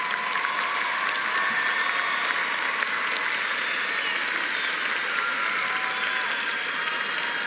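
Steady, dense applause from a large audience at a high school graduation ceremony, honoring band, orchestra and choir members, a continuous wash of clapping filling the hall without pause.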